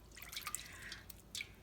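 Water drips from homemade butter as it is squeezed out by hand, a few faint separate drips and trickles over a quiet background.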